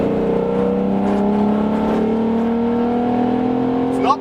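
A VW Golf VR6 engine accelerates steadily, its harmonic drone rising in pitch through the gears, loud and close with a brief clatter at the end.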